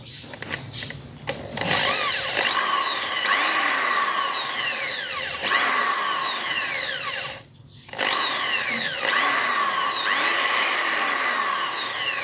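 An electric drill whirs loudly in repeated bursts while spinning a Yamaha TZR/TZM150 speedometer cable, its pitch sweeping up as it spins and winding down between runs, with one short pause midway.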